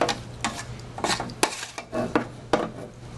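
Caramelized vegetables and meat juices from a rib roast are spooned into a small stock pot, with repeated metallic clinks and scrapes of a utensil on metal and soft wet plops, close and clear.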